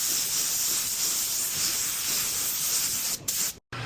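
A DeVilbiss GPG spray gun with a 1.2 tip lays down Beer UV primer in an automotive body shop, a steady close hiss of atomized spray holding for over three seconds before sputtering briefly and cutting off.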